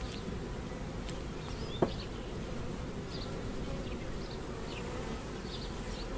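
Honey bees swarm around an opened hive during reassembly, producing a constant low, dense buzz with a single faint click; close and unbroken, with no voices.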